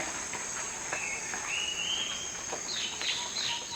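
Birds call in a riverside forest in Borneo, giving faint, scattered whistles and sliding notes over a constant high insect drone.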